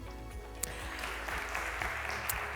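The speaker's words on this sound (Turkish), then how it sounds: "Henüz kıymetli alkışlarınızı hak edecek hiçbir şey yapmadım" An audience claps continuously, a dense wash of applause at moderate volume throughout.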